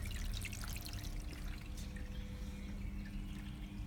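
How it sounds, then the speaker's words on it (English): Water flows out of a motor-driven valve in a small automatic irrigation system prototype, a faint, steady trickle and patter that continues evenly throughout, with no voices. "the motors power the valve, which will then open it so that water begins"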